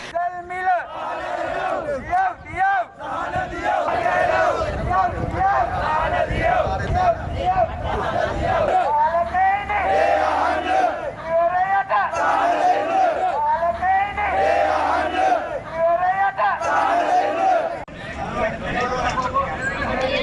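A crowd of protesting fishermen blocking a main road in Sri Lanka, raising a loud, continuous chorus of shouting and chanting voices for the whole stretch, with layered cries rising and falling in waves.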